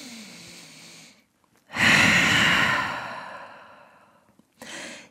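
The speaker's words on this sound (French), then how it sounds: "Grande respiration en chien tête en bas." A single deep breath taken in a downward dog yoga pose: a long, close, airy exhalation that swells loudly and slowly fades out over a few seconds, bracketed by softer breathing, with no talk.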